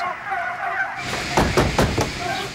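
Turkeys gobble and chickens cluck in a close, busy chorus inside a poultry barn, with a few sharp repeated calls.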